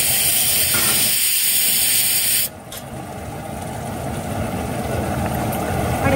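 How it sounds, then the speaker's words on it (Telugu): Mutton frying in a pan: a loud, steady sizzling hiss that drops slightly after a couple of seconds and then builds back up, close and continuous with no talk. "రెండు కలిపి ఫ్రై."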